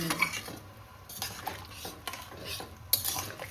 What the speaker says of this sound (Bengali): এবার ভালোভাবে একটু মিশিয়ে একটু নেড়ে ছেড়ে দিচ্ছি